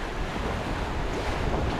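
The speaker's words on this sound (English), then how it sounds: "the waves are coming sort of at my back corner, and then there's a cross swell that's also moving" Ocean waves and wind around a sailing catamaran at sea, with cross swell: a continuous broadband wash of surf and wind noise buffeting the microphone, fairly loud and steady, with no voices.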